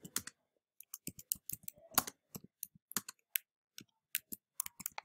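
Quick, irregular keystrokes on a computer keyboard enter a sudo command, crisp close clicks in short bursts with small gaps and no talking.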